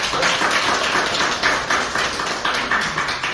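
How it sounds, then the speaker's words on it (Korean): A board meeting audience in an indoor hall claps steadily, giving a dense, even patter of many hands that stays at the same level throughout, with no talking over it. "박수 한번 부탁드리겠습니다."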